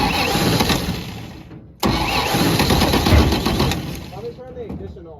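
A 1952 Chevrolet 3100 truck engine cranks, cuts out briefly, then cranks again and catches into a rough running idle, loud and close, with voices talking over it.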